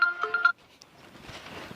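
A mobile phone ringtone plays a short repeated electronic melody in bursts, fairly close and clear, then cuts off, leaving faint indistinct room noise and rustling.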